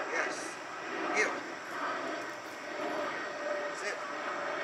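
An airplane drones steadily overhead during an outdoor dog-obedience training session, a faint, distant rumble that runs throughout beneath a trainer's spoken commands.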